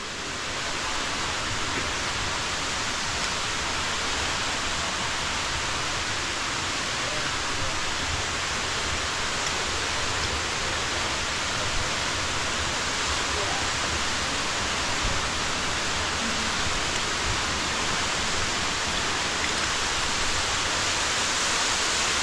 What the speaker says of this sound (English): that waterfall is going